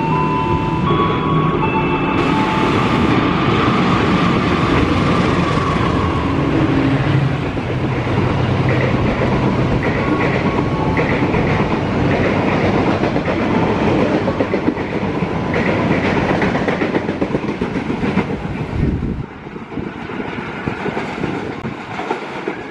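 The Jakatingkir 256 passenger train, hauling two generator cars, rumbles past loudly and close on the rails with continuous clickety-clack wheel noise and some squeal, fading slightly near the end.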